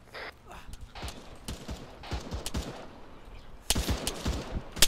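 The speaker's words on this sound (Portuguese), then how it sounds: "Tá vindo tiro de cima também." Gunfire crackles in a street shootout: sharp, irregular single shots and short bursts, some distant and some closer, growing louder toward the end.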